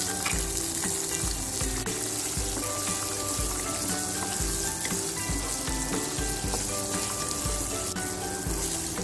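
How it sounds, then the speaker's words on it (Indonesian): Peanuts, shallots, garlic and chili sizzle and fry together in a pan, a loud continuous crackle with occasional stirring scrapes and knocks, no talking. "Ini bawang merah, bawang putih, cabenya ya. Saya goreng, saya satukan."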